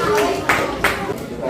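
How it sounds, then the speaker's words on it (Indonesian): Schoolchildren in a classroom perform a rhythmic spirit clap, three or four sharp collective claps in a quick pattern over a background of voices. "Tepuk semangat"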